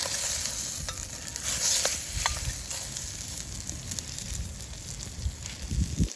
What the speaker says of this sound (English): Next we're going to sear the venison in the bacon fat